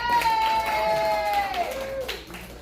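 An audience at a poetry open mic at Graffiti's Downtown claps and cheers close by in a lively, steady wash, with a faint tonal whine running underneath.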